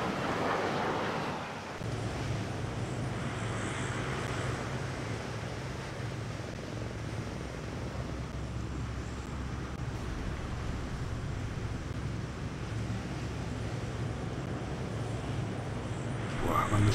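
Aircraft engines drone steadily in the naval strategy game Naval War: Arctic Circle, a broad, even rumble with a windy rush that holds at a moderate, fairly faint level throughout, with no talk.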